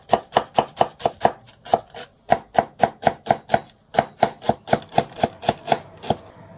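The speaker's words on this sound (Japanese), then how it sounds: "玉ねぎは粗みじん切りにします。" A knife coarsely chopping onion on a board, a fast, steady run of crisp close taps with a brief pause midway, loud and alone without talk.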